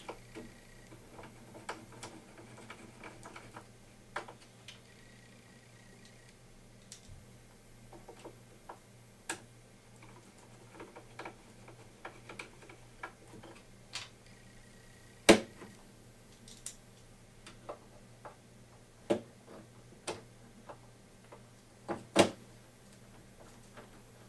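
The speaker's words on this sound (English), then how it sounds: "we'll go ahead and put the rack screws on right quick" Rack screws being driven into a Presonus Studio Channel tube preamp rack unit in a studio, a series of sharp, irregular metallic ticks and clicks over a steady low hum, mostly faint with a few louder snaps.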